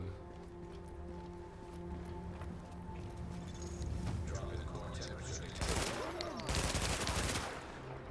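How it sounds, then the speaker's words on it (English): A burst-firing rifle in The Division, two loud clustered volleys of rapid shots late in the moment, standing out over a low background hum and faint game ambience. "a good rifle that's bursting"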